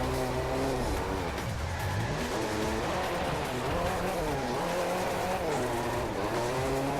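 Car engine revving hard through a drift in the Driveclub racing game on a Japan track, with sustained tire squeal and shifting engine pitch, loud and continuous with no talk.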